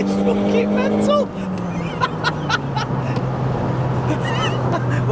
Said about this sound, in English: This is the Seat version of the launch control.